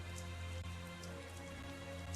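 Steady rain falls in the video game Tales of Zestiria, a dense, even patter with a low ambient hum underneath, continuous and fairly quiet.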